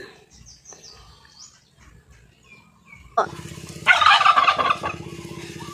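Domestic turkeys erupt into a loud, close chorus of rapid gobbling after a few seconds of quiet farmyard background noise, and the gobbling keeps going to the end.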